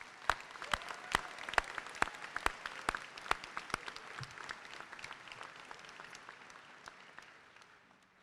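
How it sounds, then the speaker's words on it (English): Audience applause at a medical school white coat ceremony for the class of 2022, a steady dense patter of many hands clapping in a large hall, sustained throughout and gradually thinning toward the end. "everybody, let's give them a big round of applause"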